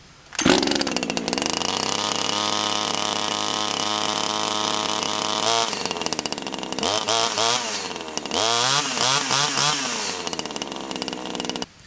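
A Farmertec JonCutter CSG2500 chainsaw, a Zenoah clone fitted with a long bar, starts with a pull and then runs loudly up close, settling into a steady idle before being revved hard in repeated bursts.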